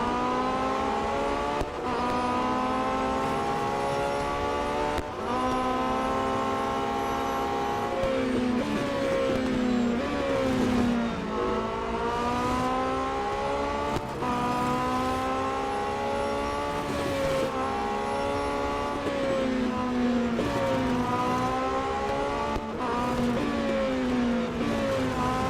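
Race cars in the Real Racing 3 video game drone continuously, with engines repeatedly revving up and dropping through gear changes, steady and moderately loud throughout without pause.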